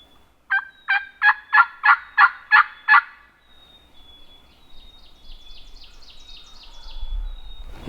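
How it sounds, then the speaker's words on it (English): A wild turkey gobbles in a loud, rapid burst of about seven rattling notes, followed by a fainter, more distant gobbling series as outdoor ambience rises. "I need him to gobble again before I make a move."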